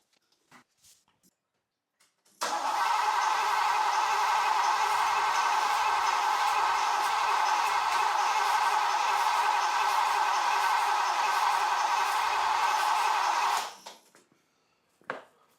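A Ferrari 308 engine cranks continuously for about eleven seconds without firing, a steady whirring starter drone, close and fairly loud, ending abruptly into quiet.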